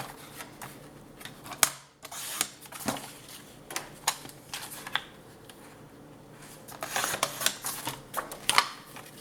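Paper for a scrapbooking journal is cut with sharp, crisp snips and clicks spaced irregularly. The sounds are close, and a denser cluster of cuts comes near the end, with no talking.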